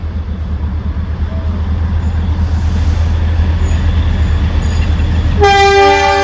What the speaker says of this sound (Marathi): ते बघ ट्रेन चालली.